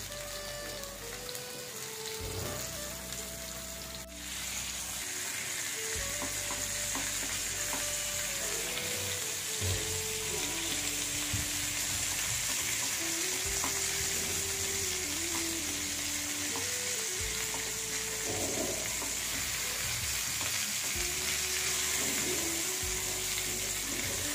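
Bangda (mackerel) sizzles steadily as it fries in a pan, a continuous close crackle and hiss running the whole time, with faint background music underneath and no talk.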